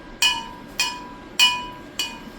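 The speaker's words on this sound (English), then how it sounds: "And then we're going to give this a good stir." A spoon stirs liquid smoke into a ginger chicken sauce, striking the side of the bowl in four bright, evenly spaced clinks that ring briefly against a quiet background.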